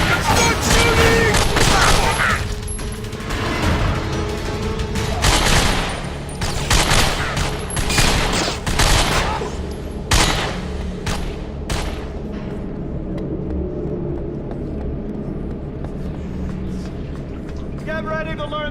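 Gunfire from the video game The Darkness rattles in dense, loud bursts and single shots through the first twelve seconds, thinning afterward, with game voices shouting over the shooting.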